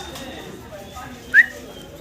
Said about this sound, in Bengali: ইনশাআল্লাহ চমৎকার এক জোড়া কবুতর দেখাচ্ছি,